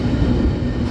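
A train rolls past close by in a rural Arkansas valley with mountains and a creek, a loud, steady low rumble filling the whole moment with no voices.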